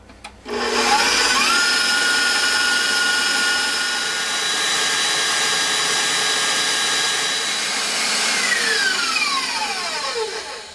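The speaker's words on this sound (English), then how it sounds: "let this mixer run for a bit, let it start to form a really nice meringue" An electric mixer whips egg whites into meringue while granulated sugar is gradually added. It makes a loud, steady whirring drone that runs unbroken from start to finish, with no talking.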